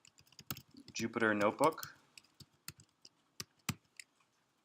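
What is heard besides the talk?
typing on a computer keyboard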